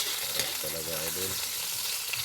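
Kangkong, onion and tomato fry in a pan for adobong kangkong, giving a steady close sizzle. A voice briefly speaks over it midway.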